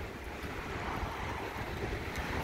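Sea surf rolling onto a beach at Lazarevskoye on the Black Sea coast, a steady broadband wash of waves mixed with wind buffeting the microphone, continuous and fairly loud with no voices.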